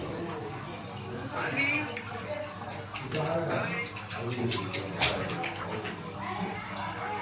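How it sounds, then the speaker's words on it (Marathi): Water is poured and splashed to welcome guests arriving at a house during Ganeshotsav in Kuvale, Devgad, in the Konkan, with running, splashy water sounds under nearby talking voices. "तर अशा प्रकारे विना पाटील यांच्या घरी आलो आहे आणि पाण्याने स्वागत"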